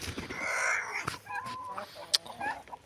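A turkey hen in a farmyard gives a few short, close clucks among soft rustling, with faint human voice sounds in the background.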